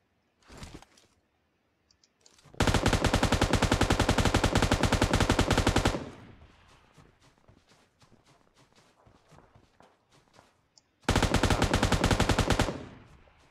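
Automatic gunfire in the mobile battle royale game PUBG Mobile: two long, loud bursts of rapid, evenly spaced shots, separated by a stretch of quieter footsteps and scattered single shots.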